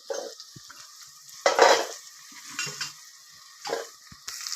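Onions frying in a pan for a Telangana-style goat tripe curry, with intermittent scraping stir strokes over a soft sizzle, a few louder bursts and pauses between them.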